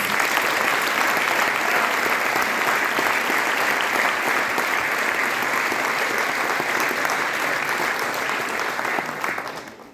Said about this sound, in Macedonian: јас ќе ве замолам за еден громогласен аплауз